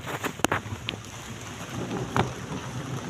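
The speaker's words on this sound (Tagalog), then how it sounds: "Nakulog-kulog na." Steady rain falling outdoors on a steep path near a flood-prone area, with low thunder rumbling and wind buffeting the microphone, a couple of sharp knocks standing out.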